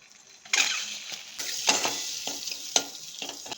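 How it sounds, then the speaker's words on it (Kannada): Eggs with a little turmeric powder fry in oil in a pan for a tamarind egg gravy, a steady sizzle broken by several sharp scraping stirs of a utensil, loud and close with no talk. "ಮೊಟ್ಟೆ ಸ್ವಲ್ಪ ಫ್ರೈ ಮಾಡ್ಕೊಳ್ಳೋಣ"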